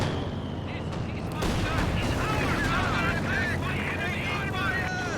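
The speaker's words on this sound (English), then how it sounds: "Our mortars are doing quite good damage in here." Battle sounds from the video game Company of Heroes 2 during a Soviets versus OKW match, with mortar fire amid dense rumbling explosions and gunfire, a continuous loud roar that swells partway through, with no speech audible.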